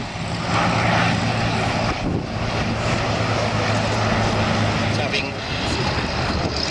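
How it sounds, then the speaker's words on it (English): Douglas C-47 DC-3 aircraft piston engines rumble at an air show at Old Warden, a loud steady drone with propeller throb, heard under a voice speaking over a public address. "a sight and a sound that you will probably never ever see or hear again with our 7 C-47 DC-3s to await their departure clearance"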